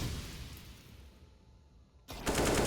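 Pistol fire in a professional Counter-Strike: Global Offensive esports match, including Desert Eagle shots: faint game noise first, then loud sharp gunshots bursting in abruptly near the end.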